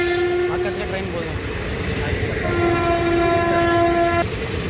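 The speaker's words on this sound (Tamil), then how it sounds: "பக்கத்துலேயே ட்ரெயின் போகுதுங்க." A train passes close by a cricket tournament ground, its loud horn sounding in long sustained tones over the rumble of rolling rail cars, with voices faintly audible.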